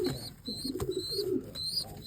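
A white pigeon coos in soft rolling phrases close by, with a few higher bird chirps or calls mixed in over a brief span.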